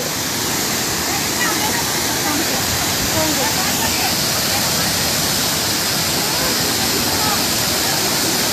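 Water overflows the spillway of Nangali lake in Mulbagal taluk, Kolar district, a steady, dense rushing roar that fills the whole recording without letting up.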